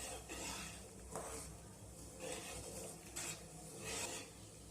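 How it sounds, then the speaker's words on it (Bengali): Raw mango jelly is stirred continuously in a pan over medium heat: a spoon scrapes and rubs against the pan bottom in repeated soft strokes about once a second, faint and close, with no talking. "এবার আমি আঁচটাকে মিডিয়ামে করে অনবরত এইভাবে নাড়াচাড়া করতে থাকবো।"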